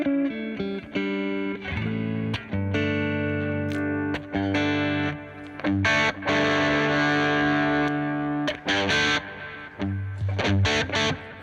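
An electric guitar played through a 1963 Deluxe Reverb amp rings out in chords and single notes with a gritty, driven tone, played continuously and up close.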